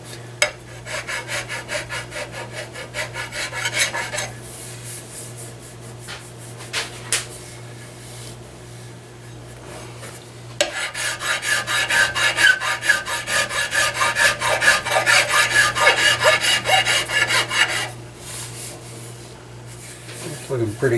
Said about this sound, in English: Make sure you don't have a ridge there where you've been filing.